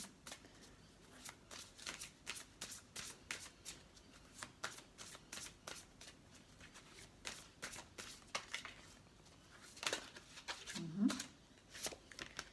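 Psychic Tarot cards being shuffled over and over, a steady run of soft papery riffles and flicks close up, with a brief low voice sound near the end.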